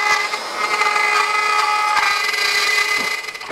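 A router with a straight cut bit cuts dovetail pins in wood on a Leigh DR4 Pro dovetail jig, a steady high whining motor with grinding cut noise throughout, close and loud with no talk.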